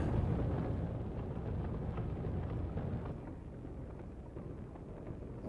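A drag car in the Assetto Corsa racing game revs its engine as a loud, continuous low rumble that eases slightly partway through, with no voices.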